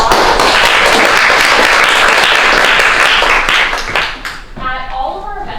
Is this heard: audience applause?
yes